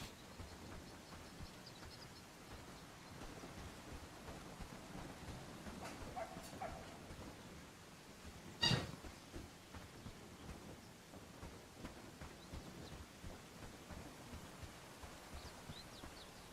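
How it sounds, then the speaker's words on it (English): Steady rain pours in the video game Bellwright, a soft continuous hiss across the whole stretch, broken midway by one sharp, loud thunder crack that fades back into the rain. "Oh man, it's raining out here."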